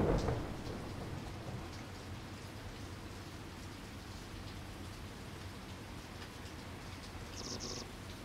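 Steady rain and rolling thunder on a dark night in the video game Everhood, a dense wash of downpour with a heavy rumble at the start, continuing alone without any talk.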